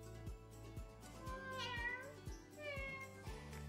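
Someone mimics a cat meowing, a couple of drawn-out wavering meows, close and fairly quiet, alone with no other talk.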